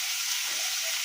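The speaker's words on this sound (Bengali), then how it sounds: "মাছের ঝোল ফুটছে এখানে" Fish curry simmers in a pot with potatoes, cooked without oil or spices. A close, steady hiss of bubbling and sizzling runs throughout, with no voices.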